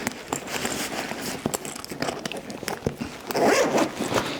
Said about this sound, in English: And then it's just a zipper all the way around.